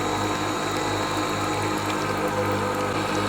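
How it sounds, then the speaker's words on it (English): A Nespresso Vertuo Next coffee machine running its first cleaning cycle, with its pump droning steadily and loudly while drawing water into the empty system, a constant close hum with faint liquid gurgles. "the first run, the cycle, can be quite loud because it hasn't sucked in the water yet"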